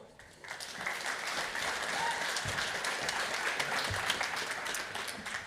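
A hall audience at a Dutch game industry event claps warmly for an indie game collective, a dense, even wash of applause that swells, holds steady for several seconds and then thins out.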